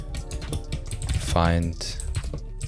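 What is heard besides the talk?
typing on a computer keyboard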